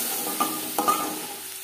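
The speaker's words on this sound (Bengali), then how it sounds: "মশলা কষিয়ে নেব" Cumin, mustard seeds and ginger fry in oil for a bitter Bengali dal, a close, dense sizzle with a few clinks and scrapes of the stirring spoon across about two seconds.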